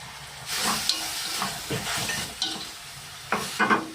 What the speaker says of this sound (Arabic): نغلق عليها ونخليها تقلى على نار هادئه.